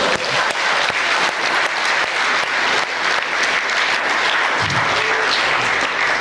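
Audience at a live show in Manchester breaks into loud, sustained applause, a thick continuous wash of clapping filling the room for about six seconds.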